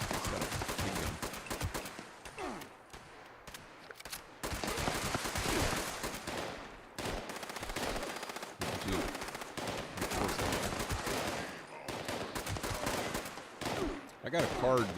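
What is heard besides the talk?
gunfire from video game Fallout 76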